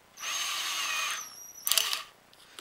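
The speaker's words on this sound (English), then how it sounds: "then you just drill it out slowly" A power drill bores a hole through the plastic back of an Airtech 3000 pump, a steady high whine for about a second, then a short rougher burst as the bit bites in.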